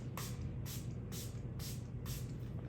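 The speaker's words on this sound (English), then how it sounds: "And you also wanna spray where the X's are." A spray bottle spritzes water onto a mushroom grow bag in five evenly spaced hissing squirts over a steady low background hum, close and fairly quiet.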